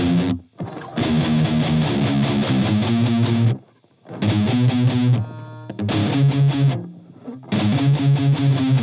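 Electric guitar cabinet close-miked with an AKG 314, playing loud distorted riffs in bursts separated by brief pauses, with steady sustained chords between the gaps.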